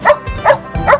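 A small dog barks three times in quick, evenly spaced yaps, close and clear, at an outdoor gathering near a hair salon.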